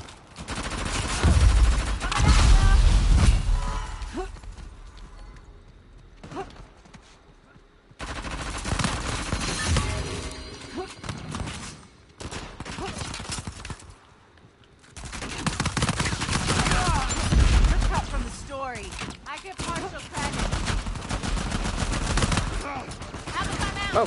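Gunfire in the Uncharted 4 video game, with bursts of rapid shots and loud blasts that come in waves and drop out briefly in between, along with other game noise.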